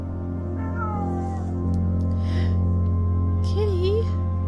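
A cat meows in the Silent Hill-style horror game Simulacrum, giving two distinct, close, rising-and-falling calls over a low droning ambient hum, with a voice speaking between them.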